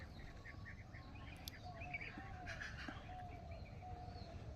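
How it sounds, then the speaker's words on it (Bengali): Assorted small birds chirp and call from a bamboo grove on a quiet morning, short scattered tweets at moderate distance over a steady low background hum. "এই তো বাঁশ বাগান থেকে বিভিন্ন জাতের পাখিগুলো আসে"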